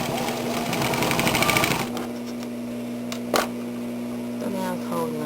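A sewing machine stitches slowly down a thick jogging pants hem, a steady rhythmic whir for about two seconds, then it stops, followed by quiet handling noises and a sharp click.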